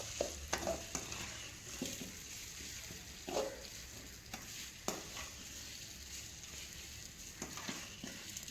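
Food sautés in oil at a low level, a faint hiss broken by scattered spatula taps and scrapes against the pan.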